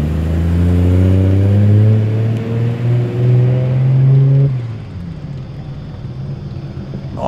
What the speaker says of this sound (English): And there goes Tony in the R32 Nissan Skyron.